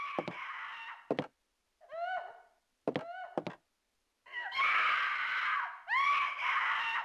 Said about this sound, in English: The screams are now louder